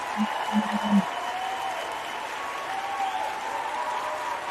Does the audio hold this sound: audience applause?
yes